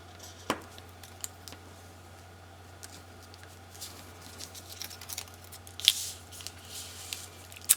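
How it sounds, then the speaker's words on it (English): Scissors trimming paper pieces for a small pocket page album, with scattered quiet snips and light paper rustles in a still room. "I'm going to trim these out and be right back"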